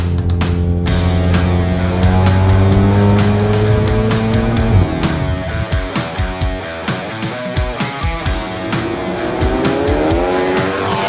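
A Stage 3 tuned Volkswagen Golf GTI MK7 with 450 hp accelerates hard, its engine note rising loudly through the revs before a shift, then burbling and popping unevenly as it drives on.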